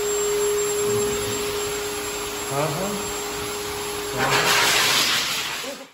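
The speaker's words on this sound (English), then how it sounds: "the sound of blow dryer" A blow dryer blows air on a dog at a pet spa with a constant loud whooshing roar and a steady tonal whine, growing louder near the end as a voice briefly murmurs.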